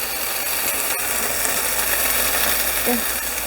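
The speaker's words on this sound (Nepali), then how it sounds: "अब एकछिन यसलाई हामीले खुल्लै राखेर भुटौँ" Steady, moderate sizzling of okra frying uncovered in a pan, with a brief faint clink partway through.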